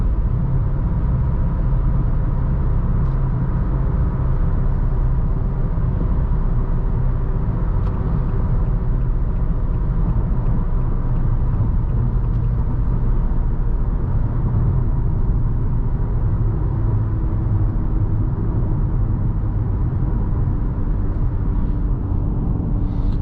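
A 2021 Nissan Altima SR AWD with a CVT cruises on the highway, giving a steady, unbroken cabin rumble of road and engine noise at constant speed with no talking.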